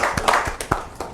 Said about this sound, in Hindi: एक बार तालियों के साथ स्वागत कीजिए इनका।